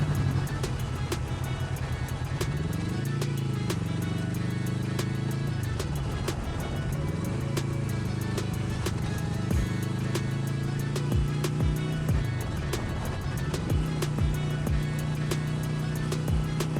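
City traffic in Chicago heard from a Kawasaki Vulcan S motorcycle: a steady engine hum rises and falls in pitch as the bike speeds up and slows, under a constant road rumble with passing vehicles.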